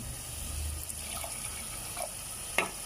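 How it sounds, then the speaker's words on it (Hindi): Half a cup of water is poured into a pot of fried spice masala with green chickpeas and potatoes for aloo cholia. The splash and trickle are faint and brief, with a slightly louder splash near the end and no talk. "आधी प्याली पानी डाल दिया मैंने।"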